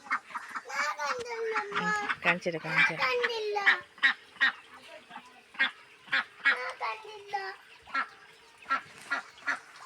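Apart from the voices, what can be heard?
hens clucking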